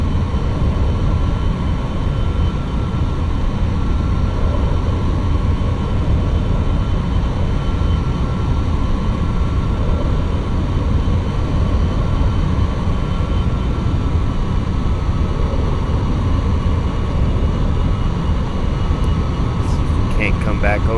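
An airplane engine in the X-Plane 11 flight simulator gives a loud, steady droning roar that runs throughout, with talking over it.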